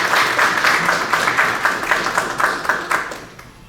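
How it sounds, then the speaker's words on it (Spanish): A crowd at a political training event in Cusco applauds steadily, dense clapping filling the room without a break and easing off slightly toward the end. "Por favor, recibámoslo con fuerte voto de aplausos a William Vladimir Blackwood Vigil."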